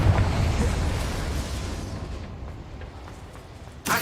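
A Confringo fire spell blasts in Hogwarts Legacy: a heavy, rumbling explosion that dies away over a few seconds, followed by a sharp burst at the very end.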